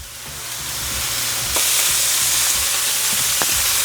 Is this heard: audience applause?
no